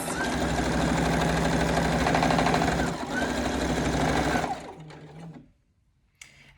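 A sewing machine seams a lace edge for a scrunchie, running in one loud, continuous motorized buzz for several seconds before slowing and stopping, followed by a faint click.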